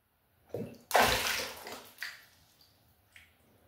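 Water sloshes and splashes inside a container during a surface tension and angular momentum demonstration, a loud burst followed by fading swirls and a few smaller splashes, with no talking.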